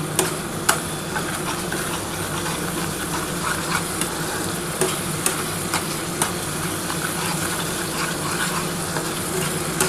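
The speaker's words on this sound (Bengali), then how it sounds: "এবার ভালো করে কিন্তু একটু নাড়াচাড়া করতে হবে।" A mustard and poppy seed spice paste being stirred as it fries in a pan for a pomfret curry, with a steady close sizzle and scraping of the spoon running throughout.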